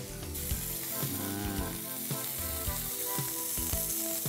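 A beef steak sizzles steadily while grilling for a spicy soy udon dish, a dense close crackle with a few light clicks and knocks of handling throughout, no voices.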